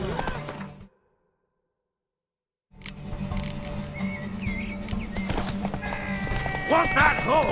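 Horse hooves clopping in The Witcher 3 during a race to a tower, a steady galloping patter under game music and character voices after a short silent gap; a neigh may also be heard.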